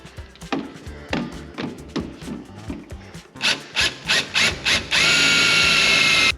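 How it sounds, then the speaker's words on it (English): A power drill drives a #8 self-tapping metal framing screw into the metal frame of a side-by-side, to ground a halo light install. Short, rhythmic whirring bursts come first, then the drill runs in one loud, steady whine close by. "I'm just gonna go ahead and use a number 8 self-tapping metal framing"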